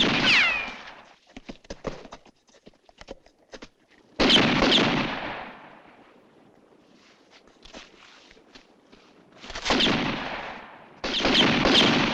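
Gunfire in an action movie set in Paso Bravo, with heavy bursts of shots and loud sustained volleys separated by quieter stretches of scattered cracks and rumbling aftermath, no speech.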